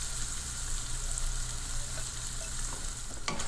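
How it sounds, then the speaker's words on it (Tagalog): Fish pieces for isda and tofu sisig fry in hot oil, giving a steady, dense sizzle close by, with faint stirring clicks near the end. "kung gusto nyo pong tostahin yung inyong isda, ganun din po ang gawin nyo. Ganire, para tostado rin."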